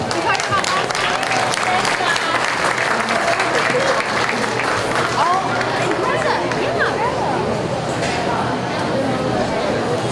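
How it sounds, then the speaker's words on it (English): A crowd at a county fair goat show claps in a thick, even round of applause that holds for the whole stretch, with some background chatter mixed in. "Let's give them a round of applause."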